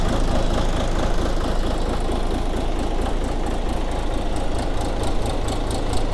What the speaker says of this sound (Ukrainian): А вот так працює ДТЗ-шний движочек